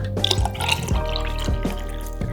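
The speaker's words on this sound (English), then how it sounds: "I find the sound of coffee pouring to be very therapeutic" Coffee poured into a mug, giving wet splashing and gurgling with a few distinct drip-like plops at a steady pace, close and fairly loud over a soft tonal background.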